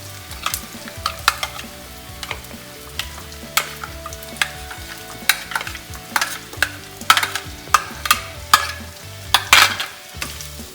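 Onion frying in oil in a pan while being stirred, with a continuous sizzle broken by repeated sharp scrapes and clacks of the spoon against the pan, close and clear, with no voices.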